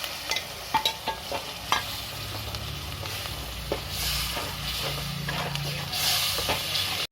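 Tomato paste sizzles steadily in a pan of small-fish curry seasoned with turmeric, with scraping stir strokes and clinks from the spoon breaking through the hot frying hiss, close and moderately loud.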